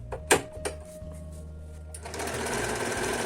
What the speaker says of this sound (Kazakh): Енді біз мына F-ті тігіп көрейік.